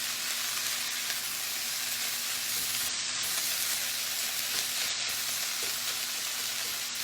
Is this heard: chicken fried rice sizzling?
yes